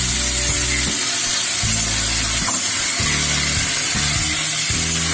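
Taro leaves go into lentils frying in hot oil, making a loud, steady sizzle and crackle close up, with an uneven rumble of stirring underneath and no voices.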